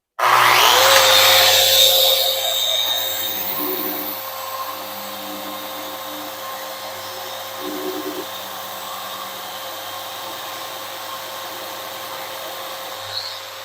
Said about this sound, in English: You'll see that the vacuum automatically turns on and off with the power tool.